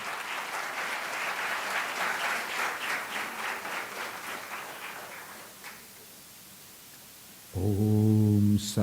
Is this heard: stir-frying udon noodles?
no